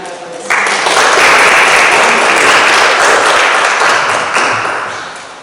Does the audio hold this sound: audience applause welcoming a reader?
yes